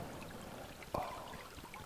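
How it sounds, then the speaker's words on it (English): A small brook babbles steadily in a quiet outdoor setting with a light breeze, a faint continuous trickle with one brief louder splash partway through. "You can hear the water babbling"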